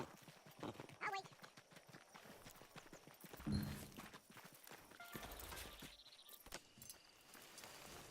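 Horse hooves clip-clopping in the video game Red Dead Redemption 2, a faint irregular patter of hoofbeats under spoken dialogue and other game sounds, with a short whinny-like burst near the middle.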